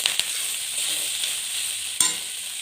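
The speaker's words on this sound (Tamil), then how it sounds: "இதை நல்லா மிக்ஸ் பண்ணிடலாம்." Ragi semiya, cooked and cooled, being stirred in a pan with softened onion, a soft continuous sizzle with a few sharp spoon taps on the pan, close and steady with no talk.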